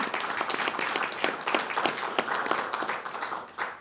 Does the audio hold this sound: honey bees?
no